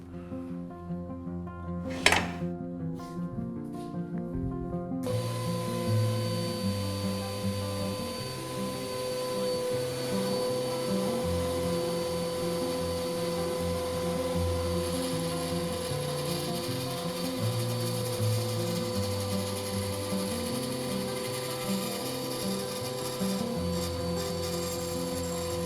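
Axminster Craft AC1400 bandsaw cutting a 45-degree mitre through a piece of maple, a steady, even motor hum and blade drone that runs continuously and close after a few brief knocks at the start.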